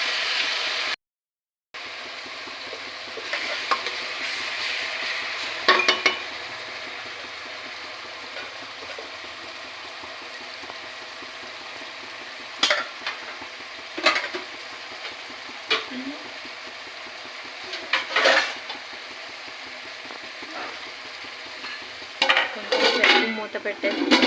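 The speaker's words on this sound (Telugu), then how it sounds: "టమాటా ముక్కలు వేసిన తర్వాత కొంచెం సాల్ట్ వేసుకొని వేయించుకుంటే తొందరగా వేగిపోతాయి ఫ్రెండ్స్" Tomato pieces with salt frying in a pan, with soft sizzling under scattered sharp spoon-against-pan scrapes and stirring clatter, no talking.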